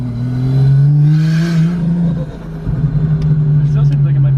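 A modified Nissan 370Z engine holds a loud, steady revving drone throughout, dipping briefly midway before climbing again, close by with people talking over it.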